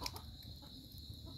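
Chickens cluck softly nearby in a rural Thai farmyard on a cold early winter morning, a few faint clucks over low background rumble with no talking.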